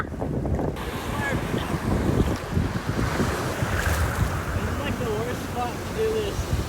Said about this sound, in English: Right here in the inlet, water's slurping really hard this way.